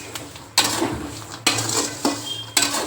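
Peanuts roast in salt in a pan and are stirred in several sharp, scraping bursts at an uneven rhythm over a low background hum, close and fairly loud, with no talk.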